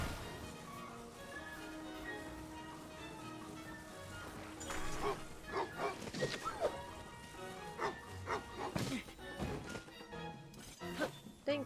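A dog, Wolf Link, barks and yips in a Zelda video game, with a run of sharp, irregular barks that grows louder in the second half and sits over a quiet game soundtrack.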